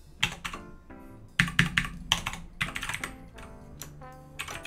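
Typing on a computer keyboard with some keys not working: quick bursts of close, clattery keystrokes in an irregular rhythm, with short pauses between runs and no voices.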